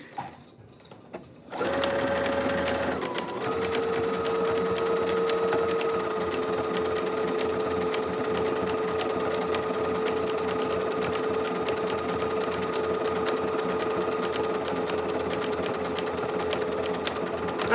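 A sewing machine runs steadily up close, its motor whirring in a continuous, even drone with rapid stitching after a brief quiet start.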